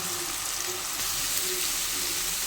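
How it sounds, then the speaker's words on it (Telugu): Ginger paste frying in a hot pan, giving a steady, close sizzle and crackle that holds evenly throughout with no speech. "కొద్దిగా అల్లం పేస్ట్ వేసుకుందాం ఇలా వేసుకొని కాసేపు వేగనిద్దాం"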